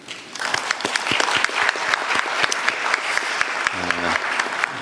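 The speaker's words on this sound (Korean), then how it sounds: "제가 박수 한번 드리고 싶습니다" Applause for health ministry officials, lawmakers and medical workers at a Korean public address: dense, steady clapping from a room full of people, loud and sustained, with a brief voice cutting through near the end.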